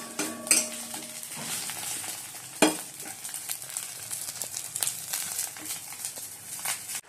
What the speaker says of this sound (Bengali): ডিমটা ভেজে নিচ্ছি, ডিমের কারি করবো